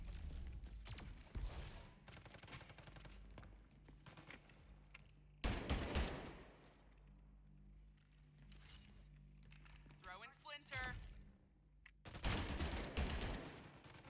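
Automatic gunfire in the first-person shooter Spectre Divide comes in several loud, rapid bursts, separated by quieter stretches of game ambience and small mechanical clicks.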